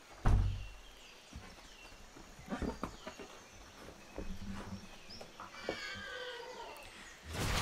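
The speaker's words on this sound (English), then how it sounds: "my cat is going to meow in a moment because it wants to walk through a door" A cat meows indoors while wanting to get through a door, several faint, drawn-out cries among soft bumps and room noise.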